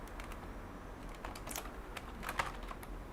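Steady typing on a computer keyboard while setting up virtualized macOS, with rapid, uneven key clicks at close range over a faint background hiss and no talking.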